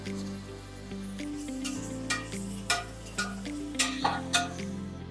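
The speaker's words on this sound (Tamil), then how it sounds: "எண்ணெய் சூடான உடனே 2 மீடியம் சைஸ் வெங்காயம் ஸ்லைஸாக நறுக்கி வச்சது சேர்த்துக்கலாம்." Two medium onions, sliced, cooking in hot oil and ghee for an Andhra-style Konda Reddy mutton biryani. A steady close-up sizzle runs throughout with periodic sharp scrapes of stirring and music playing underneath.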